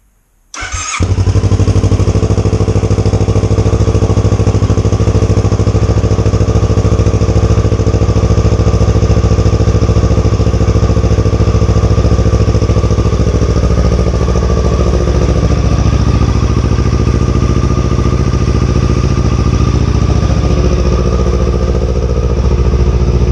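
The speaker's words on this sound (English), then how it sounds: "We've installed a new Akrapovic exhaust." A 2019 Kawasaki Ninja 650 fitted with an Akrapovic exhaust fires up after a brief silence, then idles loudly and steadily close by, a rich droning rumble holding for over twenty seconds.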